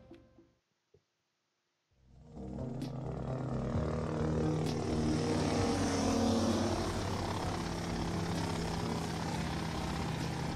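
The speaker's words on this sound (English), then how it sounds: "Okay, that's them in the chopper." A helicopter flies in GTA Vice City, its engine and rotor roar starting abruptly after a few faint clicks and then holding steady and loud for the rest of the clip.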